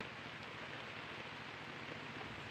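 Continuous steady rain in Camarines Norte during landslide-triggering weather, a dense even hiss of falling water with no voices, unbroken for the whole stretch.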